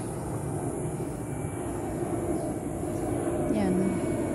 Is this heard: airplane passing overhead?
yes